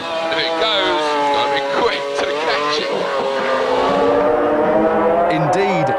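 A McLaren F1 GTR racing car on a track, its engine roaring loud and close with rising and falling revs as it is pushed harder, while someone talks over it throughout.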